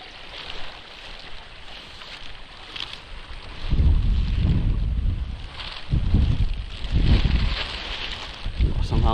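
Strong wind gusts during a heavy rain and wind storm buffet the microphone in loud, rough surges that swell and fade, with faint voices in the background.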